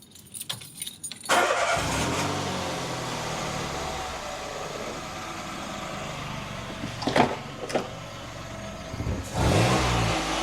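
A car engine cranks and catches, then settles into a steady idle with a couple of brief revs near the end, fairly close.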